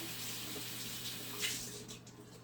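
A pan rinsed under a running kitchen tap, a soft steady stream of water with small splashing swells as the pan is moved beneath it, fairly quiet and with no talking.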